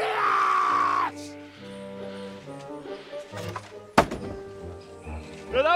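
A warning shot in the video game Kingdom Come: Deliverance II strikes home with a single sharp, loud thunk midway through, among quieter game sounds and a fading tone.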